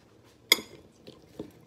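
Pasta salad of raw and cooked vegetables dressed with basil, oregano and a drizzle of olive oil is stirred in a bowl, giving a few quiet, sharp clinks of a utensil against the dish amid soft rustling.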